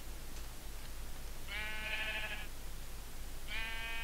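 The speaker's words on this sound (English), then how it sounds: "Look, sheep." Two bleats from a Minecraft sheep, each a wavering, nasal call about a second long, separated by a short pause over steady low background hiss, fairly close and clear.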